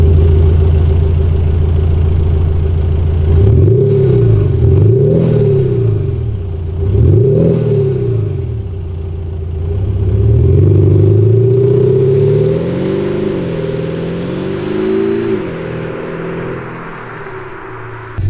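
VW T6 Multivan with two active sound generators, heard from inside as a deep engine note rising and falling through several revs, then a longer wavering swell before settling, loud and close.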